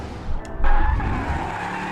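Car tires skid and squeal after a handbrake turn in BeamNG.drive, a loud grinding slide with engine rumble underneath that surges sharply and then holds steady.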